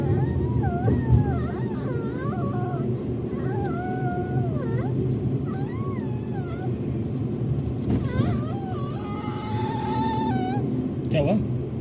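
Near a temple parking area, a cat gives several drawn-out, wavering meows in short bursts over a steady low rumble of traffic and background noise, with people talking nearby.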